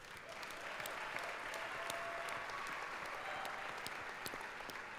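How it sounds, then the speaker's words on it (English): An audience at a car-industry consumer awards ceremony bursts into continuous applause, a thick, even wash of many hands clapping that holds steady throughout, with no speech heard. "Ladies and gentlemen, please give them all a round of applause."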